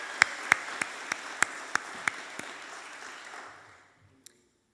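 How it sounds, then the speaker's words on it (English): Applause for the musicians at a Unitarian Universalist church service in San Antonio: a small congregation claps in sparse, distinct claps that fade out, followed by one last isolated clap. "Let's give them one more round of applause."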